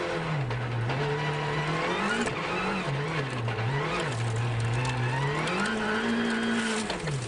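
WRC rally car at the 2013 Monte-Carlo Rally accelerating hard on a snowy special stage, engine note rising and falling through gear changes, loud and continuous with no talk over it.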